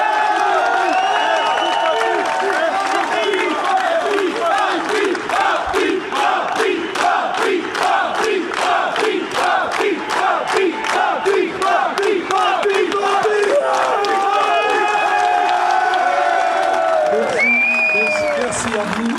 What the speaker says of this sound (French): on l'applaudisse, on le remercie pour tout ça